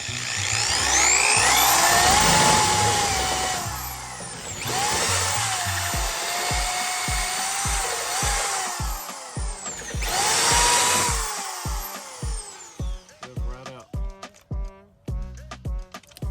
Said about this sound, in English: just drill straight through the middle